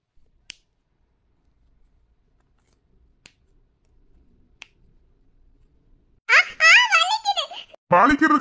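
Toe knuckles are cracked while someone tends a person's sore, cramping leg: three sharp, isolated clicks spaced apart in near silence, followed by high, wavering child-like vocalising and speech.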